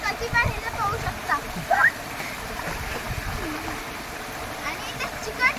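Rushing water at a waterfall below a dam where people swim: a continuous broad splashing roar fills the background while children and adults talk and call out nearby.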